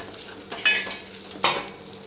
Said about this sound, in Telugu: ఇలా పసుపు కూడా వేసుకొని మంచిగా వేయించుకోండి.